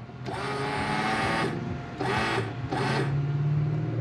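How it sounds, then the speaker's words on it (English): Windscreen washer pump and wiper motor on a Mazda T3500 truck run in three bursts, a steady mechanical whir with a squirting hiss, stopping briefly between each, close and fairly loud. "So here is the wiper switch. You can see that there, it's pull for washers."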